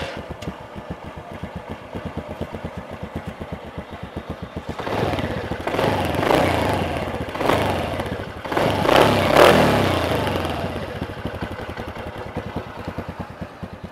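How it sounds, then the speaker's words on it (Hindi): A TVS Ntorq scooter idles with a rapid, even exhaust putter, then revs several times in loud, rising bursts before settling back to idle, heard up close with no talking. "अब मैं आपको सुनाना चाहूँगा इसका एग्जॉस्ट नॉट जो कि काफ़ी स्पोर्टी है।"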